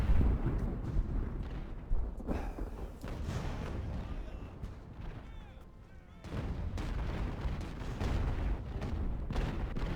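Mortar and artillery fire in the Age of Sail naval game Ultimate Admiral at the Siege of Toulon, with dense booming blasts rolling in a steady barrage, a brief lull near the middle, then heavy firing again.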